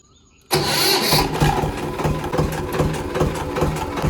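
Farm tractor with a plough attached starting on a cold early morning, the engine catching abruptly after a quiet moment and settling into a loud, close, rough idle with a steady chugging pulse.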